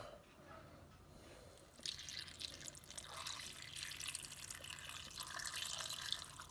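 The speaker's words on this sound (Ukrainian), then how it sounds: "І також заливаю окропом." Boiling water poured over raisins and dried apricots in a bowl, a faint splashing trickle that grows steadier and fuller as it continues, with no speech over it.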